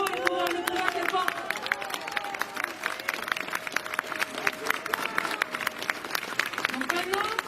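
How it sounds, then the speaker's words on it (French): A protest crowd at a rally against the unemployment insurance reform at Odéon in Paris claps for a speaker, steady scattered clapping at moderate distance with crowd murmur underneath. "je pense qu'on peut encore applaudir à ça pour ces mots et pour le combat qu'elle porte"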